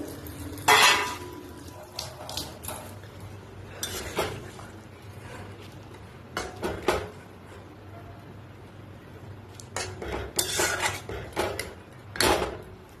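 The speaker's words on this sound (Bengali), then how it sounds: "এবার মাছটা ছেড়ে দিলাম ঝোলের ভিতরে।" Bhola fish simmering in boiling curry broth in a pot, with intermittent clinks and scrapes of a utensil against the pot over a low bubbling background, clattering bursts spaced through the stretch.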